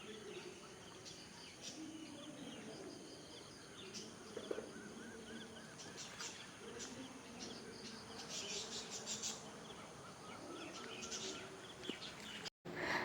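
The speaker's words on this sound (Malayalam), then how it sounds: "ലവ് ബേർഡ്സ് ഉണ്ട് കേട്ടോ, അതിൻ്റെ സൗണ്ടാണ് ഇങ്ങനെ കേൾക്കുന്നത്." Caged lovebirds at a home in Kannur chirp steadily in high, thin calls, with overlapping twitters carrying through the whole stretch at moderate distance, amid a faint buzzing ambience.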